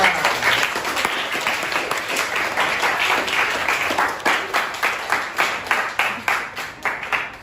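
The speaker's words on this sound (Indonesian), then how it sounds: "Tepuk tangan untuk Melisa." A classroom of students applauds a classmate, steady close clapping filling the whole stretch, thinning into a few separate claps toward the end.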